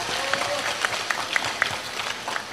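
Audience at a comedic Islamic study gathering applauds the village head, a dense, steady patter of many hands clapping throughout, with a few sharper claps and faint voices mixed in.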